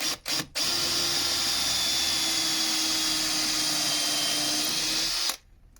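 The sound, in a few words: drilling a nose hole in a wooden snowman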